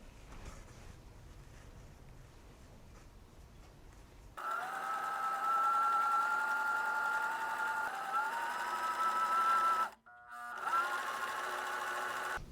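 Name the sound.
sewing machine stitching pajama fabric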